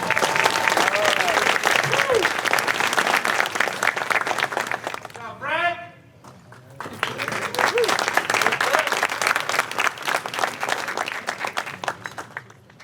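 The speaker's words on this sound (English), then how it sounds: "How about another round of applause for Frank Lara?" Sustained applause from a large audience at an annual awards banquet fills the room, pauses briefly midway as a voice speaks, then swells again and continues.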